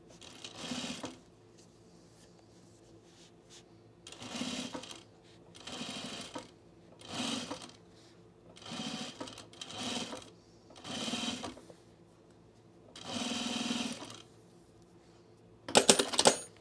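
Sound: sewing machine stitching a seam

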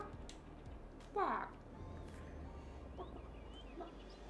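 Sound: chicken clucking in Farming Simulator 22 video game

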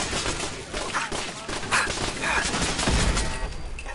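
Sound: pop-up turrets firing in video game Fallout 4

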